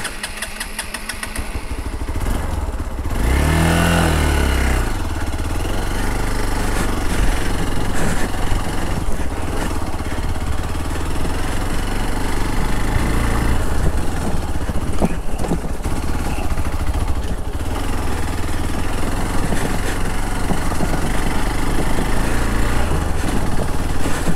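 A motorcycle engine runs steadily and loudly throughout, revving and droning as the bike rides off-road over rough ground in the rainy season near Abbi Kolli waterfalls, with no talking.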